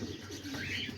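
Homing pigeons coo softly close by, a low murmuring burble over steady background noise.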